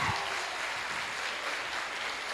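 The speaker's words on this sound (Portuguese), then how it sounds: "Aplauda o Senhor essa noite." Applause from a church congregation during a Pentecostal service, a dense, continuous wash of clapping from many people in a reverberant hall, fairly loud and steady throughout.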